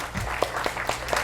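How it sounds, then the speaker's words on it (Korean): An audience at a forum on Korean medicine and medical tourism claps for Korean medicine doctors, a brief patter of applause from a small crowd indoors. "여기 오신 한의사 선생님들 박수 한번 좀 부탁드립니다"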